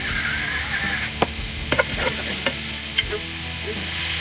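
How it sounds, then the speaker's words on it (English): Shrimp frying in a hot skillet, a steady close sizzle with occasional sharp clicks and taps from stirring, no talk. "put them onto the skillet. It's gonna go fast, so watch."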